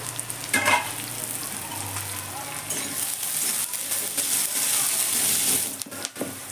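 Mixed vegetables with capsicum and green chillies frying in a pan, a loud close sizzle with stirring clatter and scraping, a few sharp knocks near the end.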